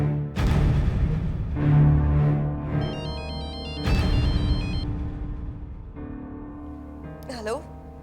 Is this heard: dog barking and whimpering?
no